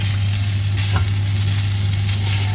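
Holy basil fried rice being stir-fried in a hot pan gives a loud, steady sizzle throughout, with a constant low hum from the stove or hood underneath and no talking.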